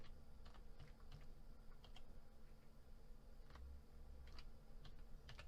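Computer keyboard keys pressed during accounting software data entry, a series of light clicks and short bursts of typing over a low steady background hum, close and fairly quiet, with no talk.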